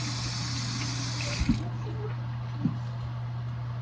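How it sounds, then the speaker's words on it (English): Running water pours from a tap while a spoon is washed, a steady hiss with a low hum beneath, a couple of light clinks, then the flow cuts off partway through. "I'm washing the spoon real quick."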